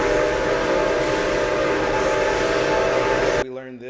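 Train steam whistles blow together in a loud, sustained, shrill chorus lasting a few seconds before cutting off abruptly into a brief voice.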